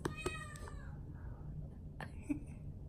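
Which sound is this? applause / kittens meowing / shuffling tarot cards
kittens meowing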